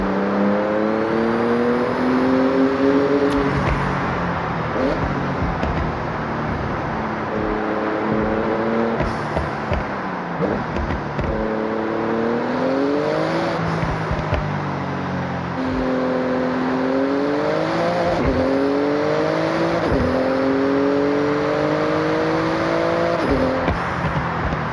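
A Porsche racing in Forza Horizon, its engine revving up through repeated rising gear pulls with brief dips at each shift, loud and close throughout with tyre and wind noise beneath.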